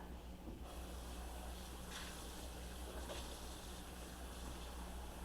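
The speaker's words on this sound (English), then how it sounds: "I'm gonna go ahead and add the additional water to my beans" Faint water poured from a measuring cup into a 3-quart pan of pinto beans, a quiet continuous hiss and trickle with a low hum beneath, no talking.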